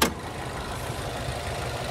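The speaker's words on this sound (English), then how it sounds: "There's that 2-liter turbocharged 4-cylinder." A 2025 Cadillac XT4 Sport's 2.0-liter turbocharged four-cylinder idles steadily, a close, even low hum that carries alone for the whole stretch after a brief opening burst.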